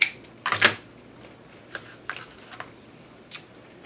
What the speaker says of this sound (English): I'm going to cut it like right here